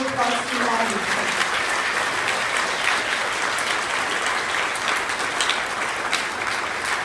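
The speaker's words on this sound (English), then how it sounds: "let's give a round of applause to all of you." A school awards ceremony audience for third and fourth graders applauds, producing a sustained, even wash of clapping from a large crowd that runs for several seconds, with a voice briefly audible at the start.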